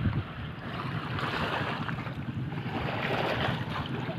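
Waves on Laguna de Bay in Rizal wash in with a continuous rumbling surf, mixed with wind buffeting the microphone, no voices.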